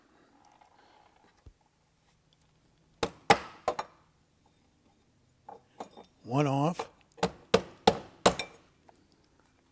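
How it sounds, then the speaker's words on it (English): A DeWalt power tool is used as a hammer, giving a series of sharp metallic clinks and knocks in irregular bursts, close and fairly loud, with a short spoken phrase and a brief rattling scrape midway. "Good old DeWalt. Doubles as a hammer."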